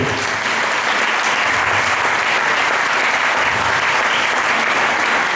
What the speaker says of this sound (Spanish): Aplauso para Felipe.